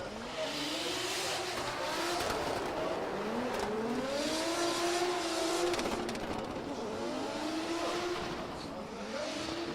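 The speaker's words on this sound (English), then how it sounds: "Mabsali puts the car into a spin" Drift car in competition at OIDC 2022 Round 2, spinning on track as its engine revs in repeated rising and falling wails, with screeching tires and a commentator talking over it.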